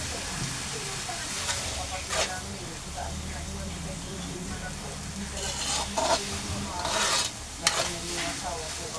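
Mustard greens with egg are stirred in a hot pan, giving a steady sizzle with repeated scraping strokes from a utensil, and a voice talks over it at times.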